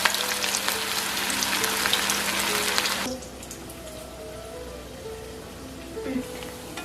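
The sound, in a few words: veg cutlets frying on medium-low flame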